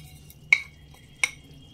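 A utensil scrapes and taps against a pan while amra chutney is stirred, two distinct sharp metallic clinks about 0.7 seconds apart over a quiet background.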